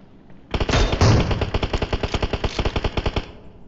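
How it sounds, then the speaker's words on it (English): Rapid automatic gunfire from a battle royale video game rattles out in a fast, even stream of sharp shots that starts abruptly, stays loud for about three seconds and then stops. "We see firing rounds from team 2 from all three directions"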